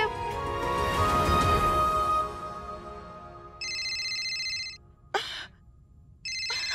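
A telephone ringtone rings in repeated electronic bursts after a quiet, low hum fades; the rings come in short, bright pulses with a brief click between.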